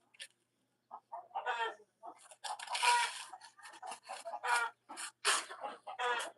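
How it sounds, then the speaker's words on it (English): Chickens in a yard cluck and squawk in busy, overlapping bursts at close range, nearly continuous after a brief quiet start. "Guys, I got to find the chickens."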